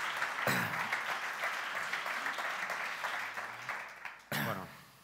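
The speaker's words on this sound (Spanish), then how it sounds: "Y les pido, por favor, un aplauso para Ignasi." A conference audience at a talk on exoplanets claps for the speaker, dense steady applause that fills the room before tapering and a voice begins.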